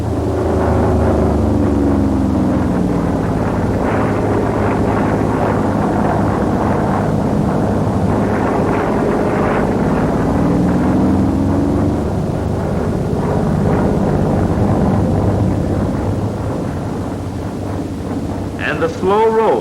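An F4U Corsair's piston engine roars steadily during an Immelmann manoeuvre flown at about 210 knots. The pitch sweeps slowly up and down under heavy wind rush, and a narrator talks over it.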